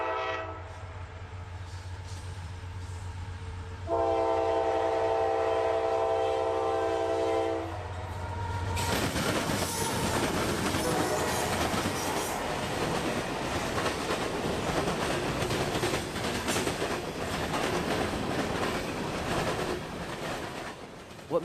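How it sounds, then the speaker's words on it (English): Freight train heading south over a railroad diamond crossing, with a long horn blast followed by loud, continuous rumbling wheels and rail clatter as the cars pass close by. "so I'd set up for a shot of the train racing south over the diamonds."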